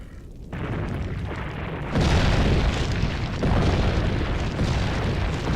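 A grenade blast in Resident Evil 4, heard as loud rumbling booms that swell in stages over several seconds, dense and sustained with no talk over them.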